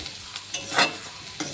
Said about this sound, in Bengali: মানে ভাজা বসিয়ে দিয়েছি